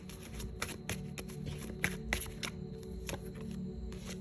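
Tarot cards being shuffled, a soft steady riffle with light taps, quiet and close with no voice over it.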